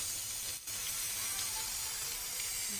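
Cigar-shaped bureks filled with cottage cheese and cheese fry in a pan with a steady hiss and sizzle, moderately quiet and continuous with no talking.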